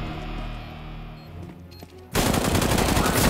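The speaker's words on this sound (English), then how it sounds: "Before I even peek out, he started shooting." Rapid, dense automatic gunfire in the CS:GO video game erupts abruptly after a quieter stretch, a loud continuous burst that fills the scene.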